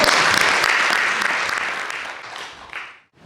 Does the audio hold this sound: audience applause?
yes